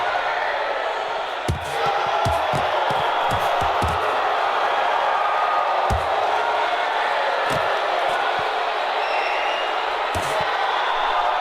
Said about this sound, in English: You just hear the crowd's response every time Boz's glove touches Furge anywhere.